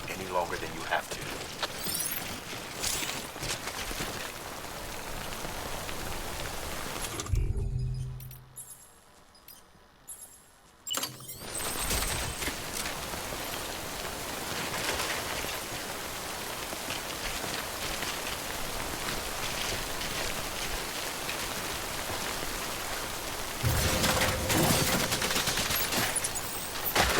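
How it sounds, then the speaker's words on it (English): Timefall rain in the video game Death Stranding, a steady hiss of rain pattering on surfaces that cuts out briefly midway and then returns, with a louder burst near the end. "Don't stay out in the rain any longer than you have to."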